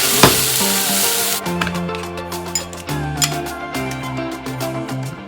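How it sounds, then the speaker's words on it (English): Onions sauté in a little oil in a pan, starting with a loud hiss, then settling into a softer sizzle broken by utensil clinks and scraping as they are stirred, close up, with no one talking. "I'm sauteing this with just a little bit of oil."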